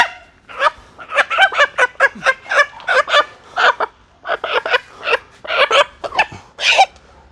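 Chickens cluck and squawk as they are herded into a coop, in a rapid, steady run of close, loud calls lasting several seconds with no talking.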